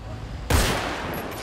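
Sudden burst of gunfire during a gang attack in GTA 5, a sharp loud crack followed by a rattling fusillade that fades into ringing, with a quiet lead-in before the shots.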